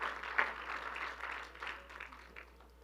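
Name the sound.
church congregation applauding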